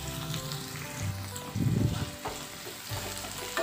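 Chopped large onions with curry leaves sautéing in hot oil for an eggplant and chickpea tamarind curry, a steady close sizzle with a louder burst of frying partway through, no talking.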